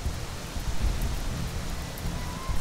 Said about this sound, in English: Oh, rainy. Nasty. Nasty rainy.